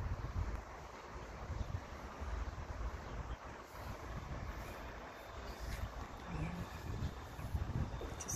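Steady wind buffets the microphone with a low, continuous rumble and rushing noise, gusting slightly throughout.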